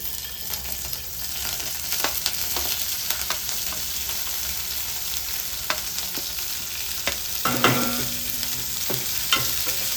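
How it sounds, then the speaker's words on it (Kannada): Garlic, ginger and four or five green chillies fry in hot oil with a continuous close sizzle, broken by occasional stirring scrapes and clinks of a spoon in the pan. "ಅದನ್ನು ಹಾಕ್ತಿದ್ದೀನಿ ಫ್ರೈ ಮಾಡಲಿಕ್ಕೆ ಎಣ್ಣೆಯಲ್ಲಿ."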